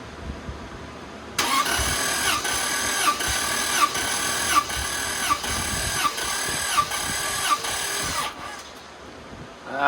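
A Toyota Land Cruiser engine cranks on the starter without firing during a compression test, a steady rhythmic whirring with regular pulses lasting about seven seconds before stopping, close and fairly loud.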